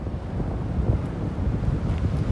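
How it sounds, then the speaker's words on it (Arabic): Strong wind gusting outdoors by the sea on a Ramadan outing in Algeria, a steady loud low roar buffeting the microphone with no clear voices. "هاي ريح بزاف"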